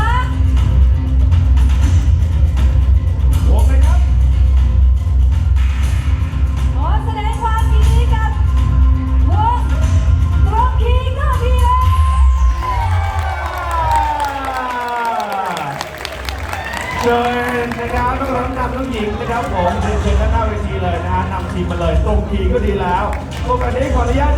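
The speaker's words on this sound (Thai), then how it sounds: "วงไหนดีคะขอเสียงเชียร์หน่อยวงไหน" Crowd cheering and clapping for competing bands at an award announcement, a dense loud roar throughout with a sliding tone and voices over a PA mixing in.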